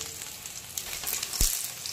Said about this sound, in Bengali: এরকম কালার আসা পর্যন্ত দুপাশে ভালো করে ভেজে নিতে হবে